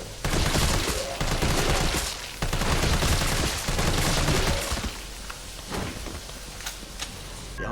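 Rapid gunfire from the video game Resident Evil 3, loud dense volleys of shots with mechanical reload clicks mixed in, keeping up with few gaps and easing slightly toward the end.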